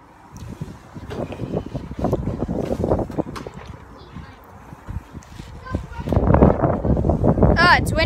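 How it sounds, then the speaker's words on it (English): Gusty wind buffets the microphone during an outdoor Nerf battle, with rough, rumbling bursts that swell louder toward the end, while people talk underneath. "It's windy."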